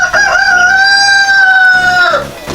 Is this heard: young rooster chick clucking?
yes